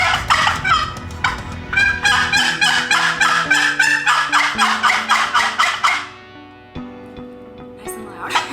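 A loud turkey hunting call is blown in rapid, repeated gobbling yelps for about six seconds, then a few softer notes, close and harsh, with no talk over it.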